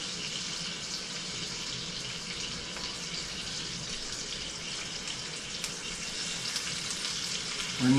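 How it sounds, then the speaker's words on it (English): Oxtails sear in two tablespoons of olive oil in a cast iron skillet over low to medium heat, giving a soft, even sizzle that hisses steadily throughout without any talk. "So what we're going to do now is sear"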